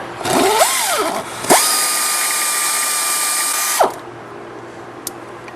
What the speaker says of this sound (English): What we're going to do now is take this tensioner assembly out since we're replacing it, and break it loose